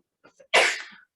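A single sneeze, close and fairly loud, preceded by two soft intake breaths and ending in a brief decaying burst, alone in a quiet room.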